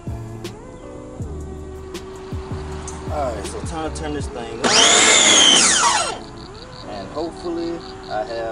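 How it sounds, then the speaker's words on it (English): A pressure washer fitted with a foam cannon bursts into a loud hissing spray for about a second and a half, surrounded by softer clicks, clatter and handling noises before and after. "put it on the pressure washer to see what it's going to do with the car"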